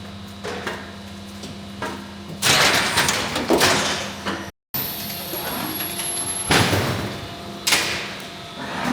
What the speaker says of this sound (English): Then just pull that door right out when you go through.